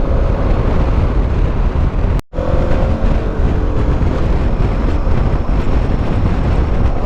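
A 2026 KTM 1390 Adventure R motorcycle on its original exhaust drones steadily nearby under heavy wind rush, with a brief dropout partway through before the engine note resumes.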